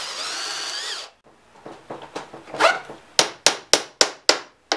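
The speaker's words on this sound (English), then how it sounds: "We're going to drill a 1/4 inch hole so we can fit our carriage bolt." A power drill drills a 1/4 inch hole for a carriage bolt, a whining spin for about a second, then a series of sharp, evenly spaced knocks close by, with no talking.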